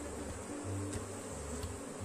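Honey bees buzz steadily at a hive holding a partially blocked swarm with a new queen, a dense continuous drone that stays close and even, with no voices.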